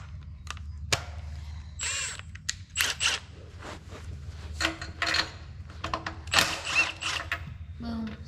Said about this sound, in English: Watch how much easier it is for me to change spark plugs now.